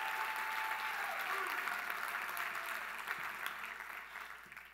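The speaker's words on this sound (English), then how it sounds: "Would you give him an unbelievable round of applause?" Conference audience applauding a guest speaker at a business event, a dense wash of clapping from a large crowd that stays steady, then gradually thins and fades.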